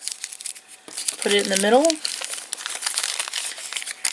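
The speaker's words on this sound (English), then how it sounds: "Crumple up the extra bag" Plastic bag being crumpled up by hand for a homemade ghost costume piece, a steady close crinkling rustle running through the clip, with a short burst of speech near the start.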